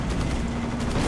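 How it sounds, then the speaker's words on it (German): Gunfire in the video game Codename: Panzer Phase One, a short, loud, dense burst of rapid shots that fills the whole brief moment with no talking. "Wir befinden uns unter Beschuss."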